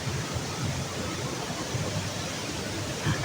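Tinoyan Falls in Surigao del Sur gives a steady, broad rush of falling water that stays constant and fairly loud throughout, with no talk over it.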